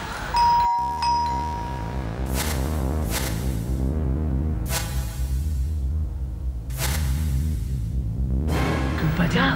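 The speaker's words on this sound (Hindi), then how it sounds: "चल चल, तू डोरबेल बजा।" A two-tone ding-dong doorbell chimes repeatedly, several rings in a row, loud and close over a steady background of music-like tones.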